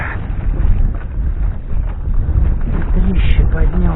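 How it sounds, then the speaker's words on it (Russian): Strong night wind blows over a lake, a loud, constant low rumble buffeting the microphone, with a voice speaking over it. "Нехороший ветер ночью."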